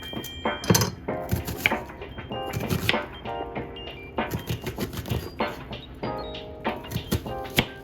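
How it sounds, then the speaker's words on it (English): A knife dices an onion on a board in quick irregular bursts, close and crisp, with light music playing underneath. "Now we're gonna dice up 1 medium onion"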